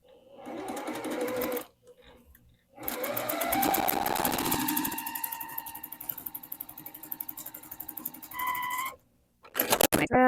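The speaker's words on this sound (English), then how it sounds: "sew a scant 1/4 inch on both sides of the drawn line." Sewing machine stitching half rectangle triangle quilt pieces a scant quarter inch beside a drawn line, close and steady in several bursts with brief pauses and a mechanical hum between runs.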